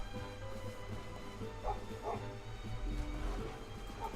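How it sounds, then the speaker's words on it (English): An attack dog barks in the Nintendo DS strategy game Age of Empires: Age of Kings, with a few short barks rising over a steady hum of game music and ambience. "Can do the angry dog bite on him."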